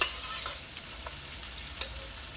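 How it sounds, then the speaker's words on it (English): Ackee goes into a pan with saltfish and sizzles softly and steadily, with a few light clinks and scrapes from the pan and spoon, and no voices. "So I'm going to add our ackee in."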